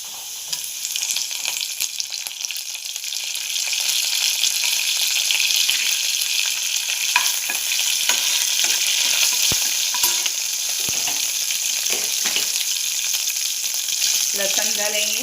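Cumin and mustard seeds with curry leaves sizzle steadily in hot oil in a pan on a gas stove, a continuous bright crackling frying hiss lasting throughout with a few small clicks and stirring sounds.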